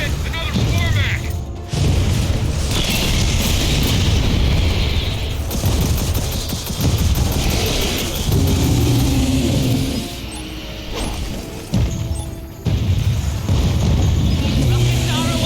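Rockets launch and burst in the Gears of War 4 video game at a dam, loud heavy booms and rapid gunfire rolling over mechanical noise, with voices speaking throughout.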